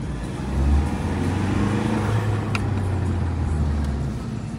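A 2019 BMW 1 Series diesel car drives along, with a steady low engine and road hum heard from inside the cabin and a slight swell of revving near the start.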